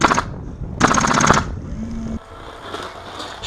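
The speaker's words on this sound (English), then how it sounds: "It's me shooting over your head," An airsoft light machine gun firing two sharp rapid bursts close by, the second longer, followed by a short mechanical whir and quieter background, outdoors during an airsoft game.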